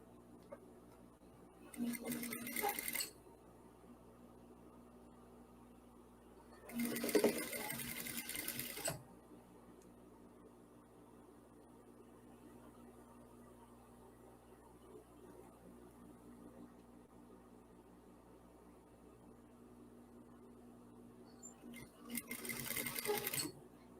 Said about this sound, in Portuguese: E aqui eu vou costurar.